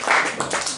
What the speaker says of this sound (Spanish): Le damos una ofrenda de palmas a nuestro buen Dios